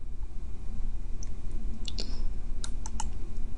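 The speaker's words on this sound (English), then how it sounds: "it is editable simply by highlighting and then typing in a new figure" Keys tapped on a computer keyboard to enter a new figure, a few scattered clicks and short bursts of typing over a steady low background hum.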